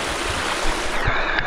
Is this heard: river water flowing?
yes